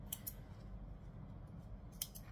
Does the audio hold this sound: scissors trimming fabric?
yes